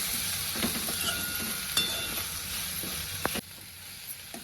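Spices with red chilli powder and black salt being stirred into a soft tomato mixture in a pan for a drumstick dry curry make a continuous frying sizzle. Light scraping clicks run through it, and it drops quieter near the end.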